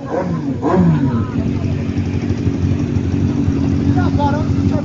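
A motorcycle engine idles steadily with a low, continuous drone while the rider looks for parking on a busy street near a newsstand; people talk over it throughout.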